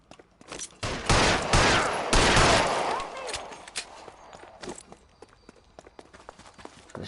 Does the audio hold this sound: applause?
no